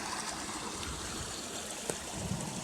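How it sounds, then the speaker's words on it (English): White water rapids of a rain-swollen burn rush under a concrete bridge, a steady broadband roar of flowing water that stays constant throughout with no voices. "You just see the white water rapids coming underneath it."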